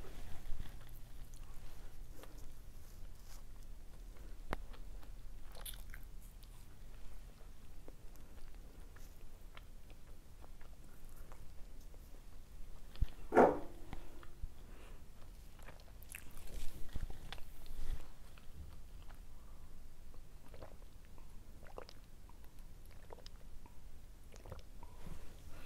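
Someone eats a favourite snack food bought on a shopping trip, with faint bites and chewing scattered through a quiet room and one sharper crunch midway.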